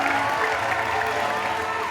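A studio audience at an Indonesian comedy show claps for a guest dressed as Pinocchio, a brief, steady burst of crowd applause with faint cheering mixed in.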